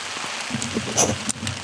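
Rain falls steadily at a base camp, a continuous broadband patter with scattered drop hits and faint low rumbles underneath.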